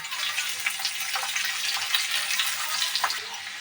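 Onion fries in oil in a kadai with a dense, continuous sizzle that runs loud and close throughout, with no talking.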